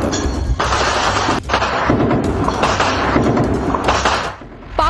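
Gunfire along the Line of Control border in the Kupwara and Baramulla area: dense repeated sharp bursts and thuds come in a rough, continuous stretch, loud and broadband, with a brief lull midway.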